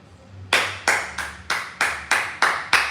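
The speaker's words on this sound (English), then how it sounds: "Clap for yourself." Hands clap in a steady, evenly spaced rhythm, about seven sharp, close claps in quick succession with no talk over them.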